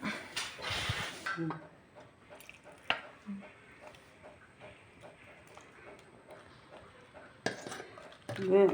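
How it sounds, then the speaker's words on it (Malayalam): Drumstick vegetables being stirred into sambar in a pot, with scattered soft clinks and scrapes of a spoon against the metal, fairly quiet and close, plus a few louder knocks at the start and end. "ഇനി ഇതിട്ട് ഇളക്കുന്നുണ്ട്, ഉടഞ്ഞു പോകാതിരിക്കാൻ വേണ്ടിയിട്ട്"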